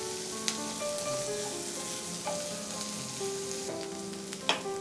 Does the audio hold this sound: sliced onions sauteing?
yes